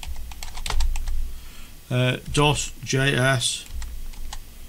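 Keystrokes on a computer keyboard as a command is typed at a GPU repair bench, with quick light taps scattered through the clip, partly under a man's speech in the middle.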